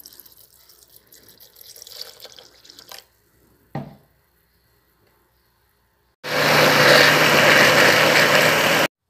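A kitchen blender whirs loudly for the last few seconds as it blends corn kernels with whole milk. Before it starts, there are quiet clinks, a short knock and a moment of silence.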